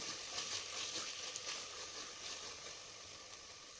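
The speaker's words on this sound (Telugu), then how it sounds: "ఇలా టమాటా సాఫ్ట్గా అయ్యి ఇంకా పెరుగు బాగా ఫ్రై అయ్యి ఆయిల్ తేలే వరకు ఫ్రై చేసుకోవాలి" Tomato and yogurt fry in oil in a pan for chana pulao, giving a faint, steady sizzle with soft crackles and no talk.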